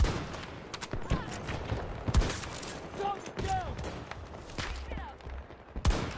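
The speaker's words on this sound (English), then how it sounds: "Every time I peek to the right, I'm getting shot at." Rapid automatic gunfire in the video game Battlefield 2042, with bursts crackling in close and further off through a busy battle, plus scattered sharper shots and a voice talking intermittently.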